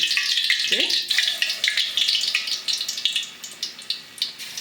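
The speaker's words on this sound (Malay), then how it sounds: "Bila dah okey macam ni Kita boleh start goreng lah okay?" Banana fritters (cekodok pisang) fry in hot oil with a loud, continuous sizzle and bright crackling spits throughout, heard up close.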